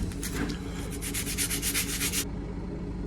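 Tinfoil-cleaned, pitted metal surface of an Escort Cosworth cylinder head being rubbed in quick, rhythmic strokes, a close, fine-textured scraping that stops abruptly near the end, leaving a quiet background.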